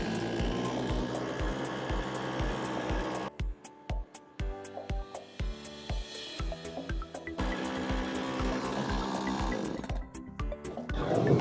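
A Parkside Performance PPBKS 56 A1 petrol chainsaw idles steadily with a rapid, even pulsing putter that holds at a constant level for the whole stretch, with no cutting and no talk.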